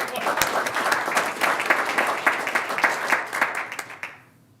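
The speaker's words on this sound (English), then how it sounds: "We'll give him a round of applause anyways" Audience at a Garden City commission meeting claps in a short round of applause, individual claps distinct and close, tapering off and stopping after about four seconds.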